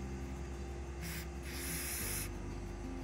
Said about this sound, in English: This is a Star Bond accelerator, and we're just going to spray a little of this to the bottom of the leg.